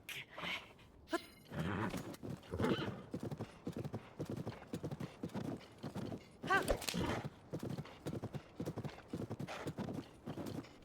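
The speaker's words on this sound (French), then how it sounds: "Là, il y a des chevaux." Horses in Zelda: Tears of the Kingdom clop along with steady hoof beats and occasional neighs, fairly quiet in the mix while someone talks intermittently over them.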